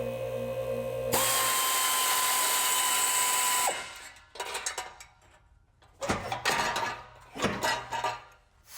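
A power tool whines steadily for a few seconds, then stops, followed by short bursts of a rattling impact wrench removing a car's factory exhaust H-pipe from underneath, close by.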